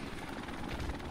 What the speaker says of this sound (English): There's a helicopter now.